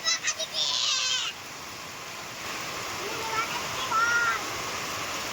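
Heavy rain pours steadily outdoors in a rural village setting, a dense, continuous wash of noise, with brief distant animal calls and a few short sounds at the start.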